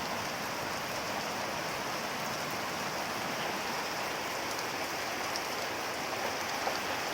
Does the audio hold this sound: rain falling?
yes